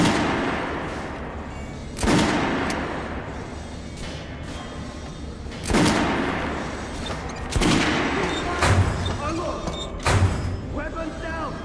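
Kalash rifle fire in Metro: Last Light Redux: repeated sharp cracks and short bursts at irregular intervals, loud and close, mixed with clattering impacts and shouted voices in the game.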